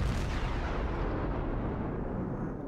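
Heavy naval gunfire in a ship combat video game, a dense, continuous roar of booming shots and rumbling blasts that stays loud and close throughout, with no talk over it.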